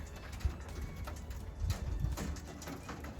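Racing pigeons move into a loft to feed, with soft fluttering, scuffling and light tapping, faint and close.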